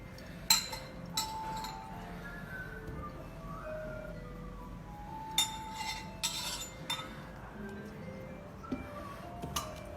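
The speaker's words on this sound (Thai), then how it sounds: "เตรียมแก้วอย่างเดียวฮะลวกแก้วรอเลย" Glassware clinks while being rinsed with hot water during pour-over coffee preparation, with a series of soft, sparse bright chinks and taps spaced over quiet running-water background noise.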